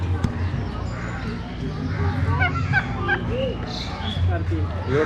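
Turkeys at a zoo in Chittagong give short honking gobbles and calls amid a crowd's babble, with people talking nearby.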